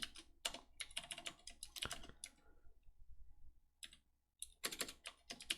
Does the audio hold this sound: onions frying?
no